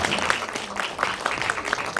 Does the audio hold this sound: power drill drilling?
no